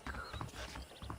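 A short burst of quiet horse hoof clip-clops in the video game Red Dead Redemption, a few soft knocks in uneven rhythm, faint and somewhat muffled.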